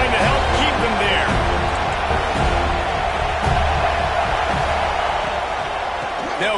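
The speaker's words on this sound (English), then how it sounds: "this crowd trying to help keep them there" Loud, dense roar from a football stadium crowd, sustained throughout, with a commentator talking continuously over it.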